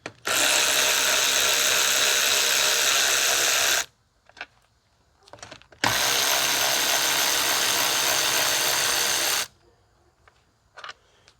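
A power tool or ratchet runs in two long, loud whirring bursts of several seconds each, removing 8mm bolts from a Troy-Bilt 550EX engine during a cylinder head swap, with brief quiet clicks and handling noises between the bursts.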